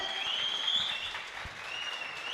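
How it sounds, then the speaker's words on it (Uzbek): Applause at a Turkmen wedding celebration in Istanbul, a brief burst of crowd clapping with a bright tonal hum running over it. "Guldiroz qarsaklar bo'lsin, alqishlar olsin"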